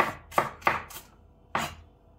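A knife chops through an onion on a board, giving four quick sharp cuts in close succession, a short pause, then one final cut, close and clear with no talk.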